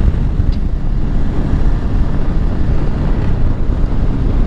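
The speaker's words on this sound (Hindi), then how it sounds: "हवा बहुत तेज़ है भाई" Strong wind blasts across the microphone on a road through Spray Valley in Spray Lakes Provincial Park, making a loud, continuous, low rumbling roar with no pause and no voices.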